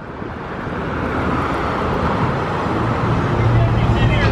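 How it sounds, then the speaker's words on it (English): Steady roar of dense multi-lane road traffic heard from inside a car stuck in congestion, a broad continuous rumble that swells slightly, with low engine hum throughout and no speech. "Not aware that there's 8 lanes of moving traffic I'm supposed to hear them over."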